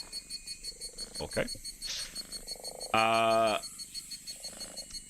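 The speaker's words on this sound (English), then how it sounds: "is the sound of frogs and insects that you can hear in the background" Frogs and insects call at night in a steady pulsing chorus of regular croaks and chirps, with a short harsh buzzing call partway through and someone briefly speaking over it.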